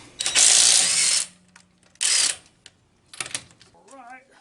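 Bursts of a small Ryobi impact wrench loosening lug nuts on a GM truck wheel during a tire rotation: two long loud rattling runs, then a shorter burst, with a brief voice at the end.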